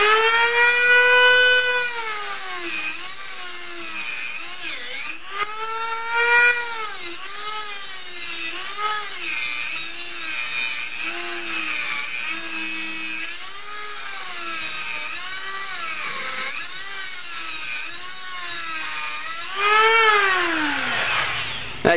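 A high, whining cutting tool bites through an aluminum beadlock ring clamped in a vise, its pitch rising and falling steadily for over twenty seconds as the cut progresses, loud and close with no talk.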